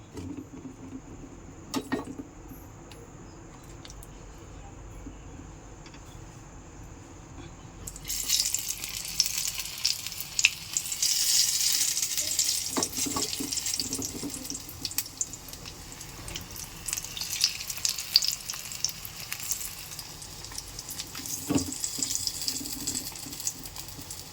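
Pumpkin flower bhaji fritters drop into hot oil, and a broad sizzling hiss rises suddenly and keeps frying steadily, with faint clinks now and then.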